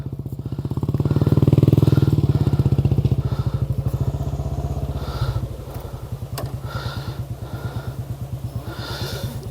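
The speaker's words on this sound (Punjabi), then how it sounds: "ਤੇ ਇਹ ਇਦਾਂ ਬੁਲਟ ਮੋਟਰਸਾਈਕਲ ਅਸੀਂ ਲੈ ਕੇ ਆਏ" A Bullet motorcycle rides over a rough, difficult track, its engine thumping in a steady, loud, close rhythm that swells early, then settles into a slightly quieter pulsing beat with a few knocks and rattles.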